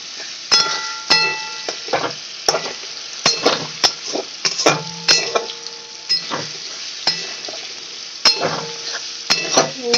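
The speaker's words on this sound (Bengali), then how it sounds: "হলুদ গুঁড়ো দিয়ে একটু নাড়িয়ে নিচ্ছি" Turmeric powder being stirred into vegetarian chowmein in a pan: a steady sizzle of frying with repeated scraping and clinking of a utensil against the metal pan, close and fairly loud.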